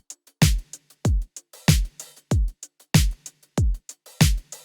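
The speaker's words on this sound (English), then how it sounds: "Initially, it had that little open and close hi-hat flare in 2 places" A hi-hat loop with a little open-and-close flare ticks rapidly over a deep thumping kick in a disco-pop beat, a tight repeating pattern with no voices.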